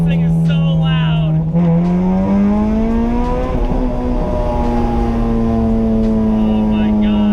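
A B18C-swapped EG Honda Civic engine revs hard and loud up close, the pitch climbing steadily through the rev range and holding near the top, a raw, strained mechanical roar filling the whole clip.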